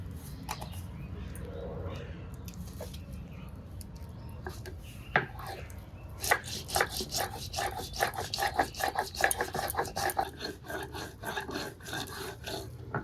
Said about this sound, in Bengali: এদিকে আমি সর্ষেটা বেটে নিই।